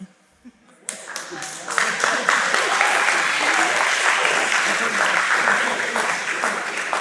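After a quiet moment, an audience at a formal speech event breaks into loud, sustained clapping that swells fast and holds steady as a dense roar of many hands, with a faint voice underneath.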